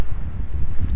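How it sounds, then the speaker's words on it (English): Wind gusts in hurricane-damaged country after Hurricane Helene, a loud low rumble of buffeting air pounding on the microphone in uneven surges, up close and alone. "Those are the gusts they're speaking of"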